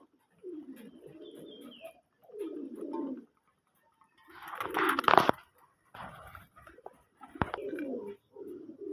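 Pigeons give soft, low cooing calls in repeated bursts of about a second each, fairly close. A louder flapping or rustling burst comes midway, along with a sharp knock.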